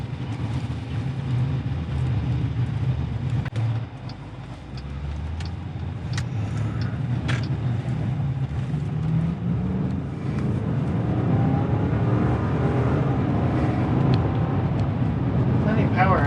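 A 2021 Jeep Grand Cherokee L Overland carrying four people drives with a steady engine rumble from inside the cabin that swells and grows louder toward the end as it accelerates, while people talk over it.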